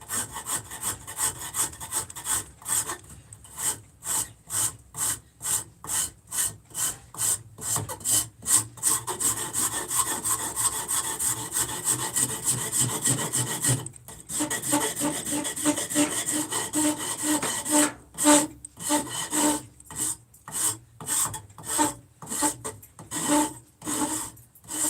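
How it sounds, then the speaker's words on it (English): Hand smoothing of a carved wooden battle spoon's edges and contours, rapid rhythmic rasping strokes in close, loud bursts with brief pauses between runs. "Just smoothing off where I was cleaning it, getting those edges, contours,"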